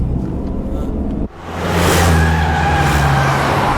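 A car engine catches and roars up loudly as the vehicle pulls away. A brief low rumble comes first, then a sustained, rising rev close by that holds strong to the end.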